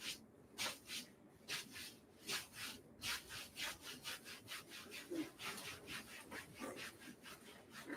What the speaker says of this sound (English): you're going to rub your fingers horizontally across it